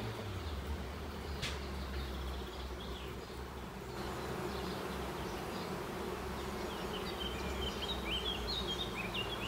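Honeybees humming around a beehive super with newly built frames being filled with honey, a steady dense buzz throughout with some bird chirps faintly in the background.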